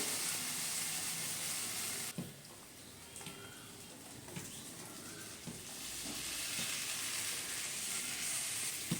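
Pre-fried potato and pointed gourd pieces sizzling in a spicy masala with lentils in a pan for a Bengali aloo potol curry, a steady frying hiss with a few soft clinks of stirring, no talking.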